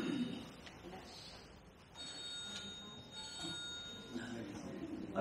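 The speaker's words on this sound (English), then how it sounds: "Somebody's phone's on here." A mobile phone ringtone goes off in an audience at an Age Concern talk in Hamilton, repeated tonal rings heard faintly in a large room with a speaker's voice and murmuring.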